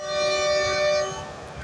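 The Allama Iqbal Express, 10 Down, sounds its whistle at Raiwind railway station in Pakistan: a single sustained, bright tone that holds for about a second, then fades over a low rumble of the train.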